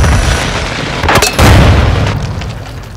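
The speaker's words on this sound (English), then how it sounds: "Semtex out!" A Semtex grenade detonates in Call of Duty Modern Warfare 2, one loud, close boom with a sharp crack followed by a rumbling tail that slowly fades, with no voices.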